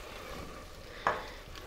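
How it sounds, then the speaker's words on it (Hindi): Garlic and soy sauce cooking in a pan over a medium flame for chili garlic sauce, giving a soft steady sizzle with a single brief stirring scrape partway through. "2 से 3 मिनट हमने इसको मीडियम फ्लेम पर लहसुन के साथ पका लेना है।"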